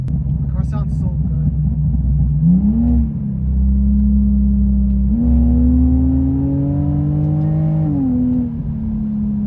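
BMW E46 fitted with a RaceDiffs limited-slip differential kit, engine rising and falling in pitch through two sustained revs, close and loud with a steady rumble throughout.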